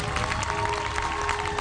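A studio audience at a television singing competition applauds the contestants, a dense, even wash of clapping that holds steady throughout with no voices.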